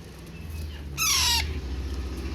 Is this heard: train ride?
no